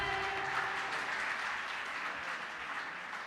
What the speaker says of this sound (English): can we have a round of applause to them?